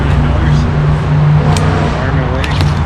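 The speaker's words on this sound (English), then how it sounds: "Sorry about the noise, the freeway's right there. I know it's loud" Steady, loud rumble of nearby freeway traffic fills the background, a continuous wash of passing cars, with a person talking over it.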